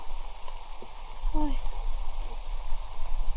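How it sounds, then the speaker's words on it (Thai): A steady wash of rain hisses continuously, with a brief voice cutting through partway. "ฝน เอ้ย ฝนมา"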